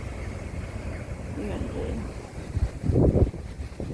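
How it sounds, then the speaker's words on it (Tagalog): Wind rumbles and buffets against the microphone in uneven gusts at a waterfront promenade in Hong Kong, swelling loudly near the end, with a brief voice heard over it. "Mahangin guys, kaya pasensya na. Maingay ang hangin, pasensya na."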